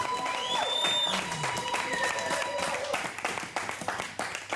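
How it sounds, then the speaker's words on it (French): A church congregation applauds with a burst of scattered clapping and crowd noise while a voice calls out over it and tonal whistle-like sounds sweep above; the clapping grows sparser toward the end. "Acclame très fort, bien-aimé. Acclame."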